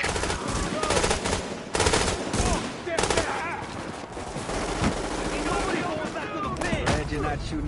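Video game combat in a JTF encounter mission, with dense bursts of automatic gunfire and single shots crackling almost continuously, loud and close with brief pauses between volleys.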